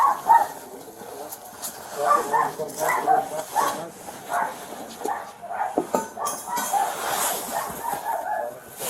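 Two dogs barking inside a house, repeated sharp barks in irregular bursts throughout, fairly close, with some voices mixed in.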